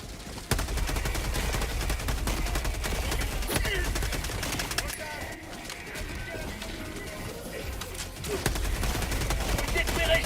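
Rapid bursts of gunfire in Helldivers II, dense crackling volleys and machine-gun rattles under a speaking voice, with a brief lull midway before the shooting resumes.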